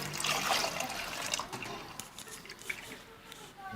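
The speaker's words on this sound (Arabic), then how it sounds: "هذول هن الميات اللي حطيناهم. هلا بنحطهم فوق اللبن." Water poured from a pot over yogurt for shakriyeh, a soft liquid trickle and splash that is strongest at the start and then fades to gentle dribbling and drips.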